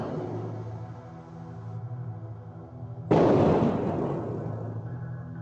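A sudden loud blast outside an apartment, caught on security cameras, breaks over a steady low hum and leaves a broad rumbling roar that fades slowly over several seconds.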